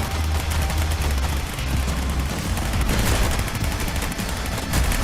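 Sustained Tommy gun fire in a video game, a loud continuous rattle of rapid shots with booming low thuds, no talking over it.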